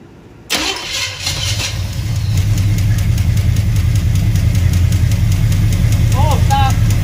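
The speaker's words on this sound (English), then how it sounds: "Gonna start it up without the valve cover on, see which ones are making noise." A Chevrolet C20 squarebody truck engine, its valve cover removed, cranks and catches, then settles into a loud, close, steady rough idle with a constant low rumble.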